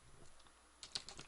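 Quiet typing on a computer keyboard: a faint lull, then a short run of crisp, close keystrokes toward the end.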